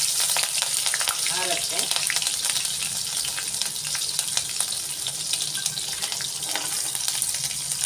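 Green chillies hit hot oil for a pigeon pea upma and set off a loud, dense, steady sizzle that fills the whole stretch up close, with a brief spoken word.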